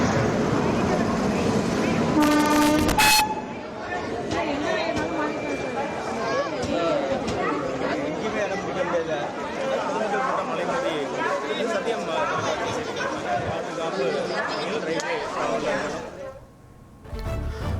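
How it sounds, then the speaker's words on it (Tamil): Crowded Nellai railway station with trains, a continuous din of passenger chatter and announcements, with a brief horn-like tone near the start, busy and loud until it fades at the end. "நெல்லை ரயில் நிலையத்தில் பயணிகள் கூட்டம் அலைமோதுகிறது."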